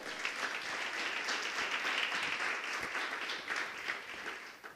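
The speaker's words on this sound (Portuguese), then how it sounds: "Você pode aplaudir o Senhor." A church congregation applauds, a dense steady wash of clapping from many hands that fills the space for several seconds, then tapers off.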